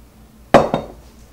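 Two sharp clinks of a utensil against a bowl while olive oil and ingredients are mixed, the first louder and the second softer just after, alone in a quiet kitchen.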